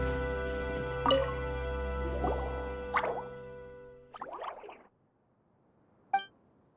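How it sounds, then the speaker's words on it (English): Water droplets drip in Genshin Impact as several separate, clear plops spread over a few seconds. A soft sustained game tone fades out beneath them, leaving the last drip alone in near silence. "it sounds like a water droplet is on the second floor"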